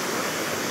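A park fountain at Hetauda Adventure World pours water in a loud, dense, continuous rush, heard close and alone without any talking.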